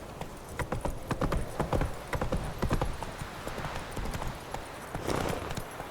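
Hooves beat in a quick, rhythmic gallop in The Witcher 3, with close, distinct clip-clop strikes that carry steadily over a faint background.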